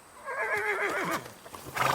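A horse being led along a route with other horses whinnies loudly and close for about a second, a wavering, pitch-sliding neigh, followed by quieter snorts and shuffling.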